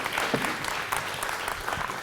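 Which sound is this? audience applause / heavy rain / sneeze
audience applause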